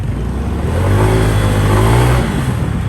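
A Honda Click125 scooter with a modified clutch bell and roller weights accelerates on a test ride, its engine note a loud, close, continuous drone rising in pitch.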